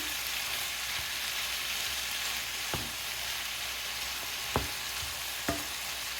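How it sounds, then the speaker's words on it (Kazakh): Bell pepper fries in a pan with a steady, even sizzle, and a few sharp knocks of the stirring utensil against the pan stand out. "Енді сіздермен кішкене қуырдық болгар бұрышын."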